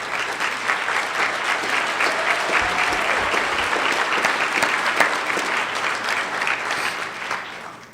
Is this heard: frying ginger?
no